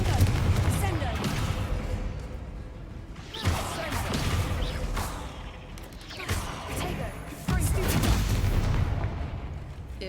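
Confringo spell blasts in Hogwarts Legacy, with repeated booming explosions and crashing impacts during a chaotic fight, loud and close, while a voice talks over them.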